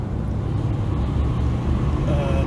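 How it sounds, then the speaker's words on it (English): A 1979 Camaro with a slight muffler exhaust leak idles or runs steadily, giving a continuous low rumble throughout, fairly close and even, with no talking. "It does have a slight exhaust leak from the muffler."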